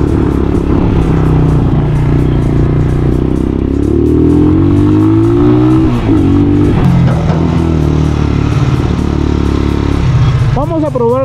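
The engine of a 2021 ICS Rider 150 motorcycle with drum rear and disc front brakes, running loud and close throughout a test ride, rumbling and revving steadily with pitch rising and falling.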